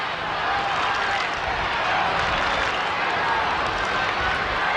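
A football crowd at a 1989 St Kilda v Fitzroy match, a loud sustained roar of cheering and clapping from a large stadium throughout, with no clear voices on top.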